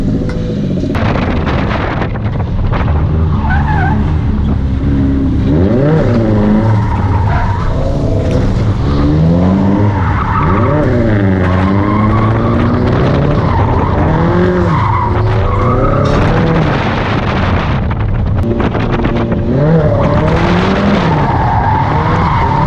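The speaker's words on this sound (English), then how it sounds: "Drifting. Okay, that's fine." A missile car drifts and skids on dirt, its engine revving and surging with repeated tire squeals and roaring slides, loud and close throughout.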